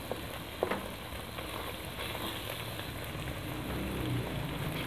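An egg frying in a pan alongside minced meat for anda keema, giving a steady, close crackling sizzle that swells slightly toward the end, with no voices.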